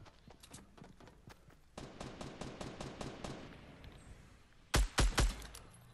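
Gunfire in a Fortnite Battle Royale squad match: a rapid automatic burst runs steadily for a few seconds, then a couple of loud, sharp close shots crack near the end.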